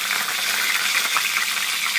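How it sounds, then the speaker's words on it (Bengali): Chicken pieces frying in hot oil give off a steady, close crackling sizzle with a dense hiss that stays even throughout. "এরকম করে পরের মুরগিগুলোও কিন্তু ভেজে নিতে হবে"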